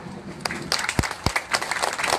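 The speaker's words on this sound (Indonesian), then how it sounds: "Tepuk tangan dong." Scattered applause from a gathered audience at an evening condolence gathering, a few sharp claps swelling into brief uneven clapping, moderately close.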